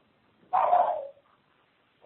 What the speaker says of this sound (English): We're hearing a dog in the background.